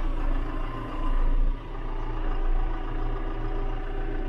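A heavy diesel engine of a John Deere 6120M tractor idles steadily nearby, its rumble swelling briefly before settling back into a continuous low drone.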